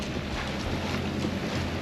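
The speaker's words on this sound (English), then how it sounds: "Little wind gusts coming through this" Wind gusts buffet the microphone in a steady, loud rumble with slight surges, outdoors near open water while sailing in the British Virgin Islands.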